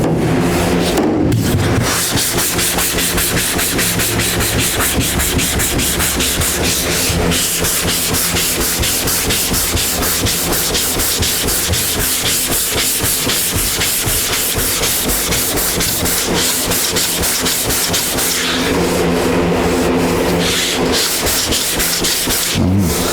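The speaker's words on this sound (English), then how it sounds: "Sanding over here a little bit, but that's okay." Steady, continuous rubbing and scraping of a hand sanding block on primer over a car body panel, close and loud, with brief pauses and shifts in stroke.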